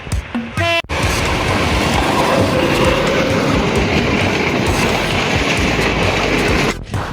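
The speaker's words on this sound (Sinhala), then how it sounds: "එන්න කෝච්චියකුත් එනවා" A train rushes past close by near Panadura beach in Sri Lanka, a loud, continuous roar of wheels and rolling cars with rhythmic rail clatter, preceded by a brief horn-like tone at the start.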